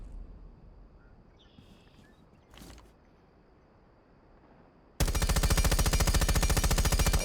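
Gunfire from a weapon fitted with a muzzle brake in Rainbow Six Siege, a loud rapid automatic burst that kicks in abruptly and keeps going, preceded by quieter game ambience and a single sharp shot.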